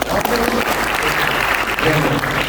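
A church youth audience claps in loud, dense applause throughout, with some voices mixed in beneath the clapping.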